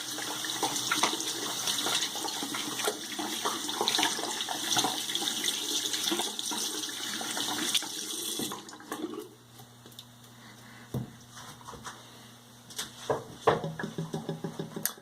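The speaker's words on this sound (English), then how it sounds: "give my hands a quick rinse." A water tap runs steadily as hands are rinsed, a continuous hiss that cuts off partway through, followed by scattered drips and small splashy knocks.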